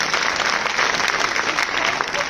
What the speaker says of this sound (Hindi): एक बार आप लोग ताली बजाओ।